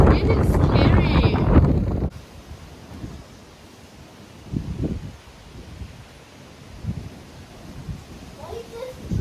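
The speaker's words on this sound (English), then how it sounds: "Hurricane Lidia is arrived. It's definitely here. Whew, the wind is so strong, it's really scary." Strong hurricane wind from Hurricane Lidia in Puerto Vallarta, Mexico, buffeting the microphone in loud gusts over the first two seconds, then easing to a lower roaring rumble with intermittent gust surges.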